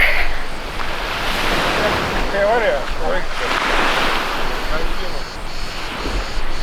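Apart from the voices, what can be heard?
sea waves breaking on the shore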